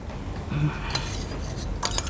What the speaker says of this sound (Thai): แล้วก็คนก่อนเพื่อให้ส่วนผสมเข้ากัน